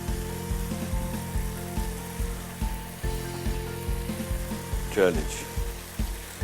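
Hara masala seekh kababs frying over low heat in a non-stick pan, a soft steady sizzle with a regular mechanical ticking underneath and a single short spoken word partway through.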